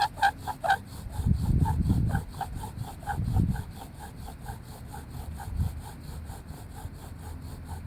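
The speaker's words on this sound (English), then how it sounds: "And as we're drilling, we want to use the whole bow." Rhythmic grinding friction in two or three bursts, a sage-wood bow drill spindle whirring back and forth against a sage-wood board, driven by a willow bow, close up and fairly loud.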